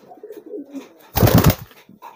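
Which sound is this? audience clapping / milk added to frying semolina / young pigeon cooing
young pigeon cooing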